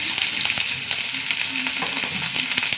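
Mustard seeds spluttering in hot oil in a pan, a close, loud continuous frying hiss scattered with quick sharp pops, with no talking.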